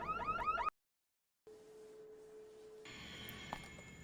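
A car alarm in the horror video game Visage gives a brief warbling, siren-like wail that cuts off abruptly into silence. A steady low hum and thin ambient tones follow.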